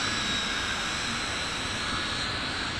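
A WLToys V686G FPV quadcopter drone lifting off outdoors, its motors giving a steady, loud, high whine with broadband rushing noise that stays even throughout.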